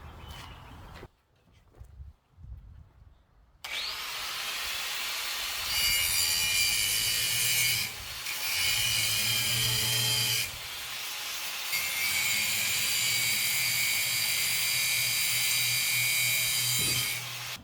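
An angle grinder works metal on a smoker build, whining loud and steady for long stretches with brief dips in pitch, following a few quieter knocks and handling sounds at the start.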